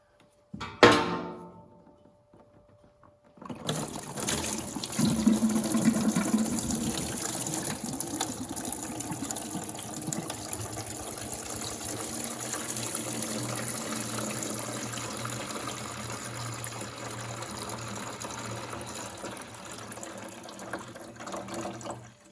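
Antifreeze drains from the radiator of a 1989 Kawasaki ZX7 motorcycle, a steady gushing, splashing pour that starts abruptly after a brief clank and continues evenly at close range with no talk.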